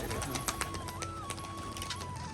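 Pigeons leaving their loft at a pigeon keeping setup, with close cooing and bird calls and soft wing-like flutters amid a steady background hum and a sustained tone throughout.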